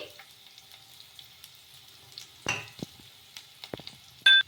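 Mustard seeds, green chillies and curry leaves fry in hot oil with a steady, close sizzle, broken by a burst of louder crackling and scattered pops.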